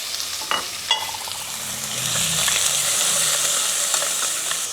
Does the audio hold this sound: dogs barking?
no